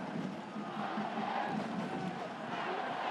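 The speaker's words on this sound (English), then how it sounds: "they've got a very loud crowd right on their backs now" A loud rugby crowd at a Clermont versus Toulouse match roars and chants steadily, a dense wash of voices that carries on with no break.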